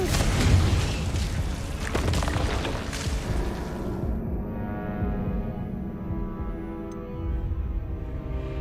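A Confringo fire spell explodes in Hogwarts Legacy: a loud, dense blast that rumbles on for several seconds, then fades into a lower, ringing roar with no voices.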